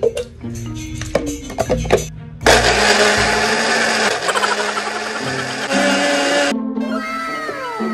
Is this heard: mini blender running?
yes